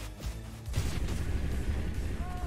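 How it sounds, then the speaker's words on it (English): Enemy explosion in the video game Pizza Tower: a dense, sustained crackling burst that fills the clip after a brief softer lead-in, loud and close, with small chiming tones near the end. "Oh, he explodes at the end."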